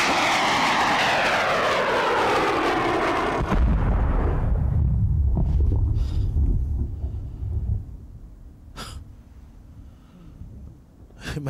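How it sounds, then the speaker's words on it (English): A Javelin missile is fired at a Taliban position: a loud roaring rush of launch and flight that fades, then a deep rumbling boom of impact followed by a few sharp distant cracks as the noise dies down. "They immediately sight the enemy with one of their javelin missiles."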